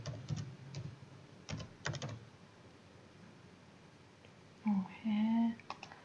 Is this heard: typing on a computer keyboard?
yes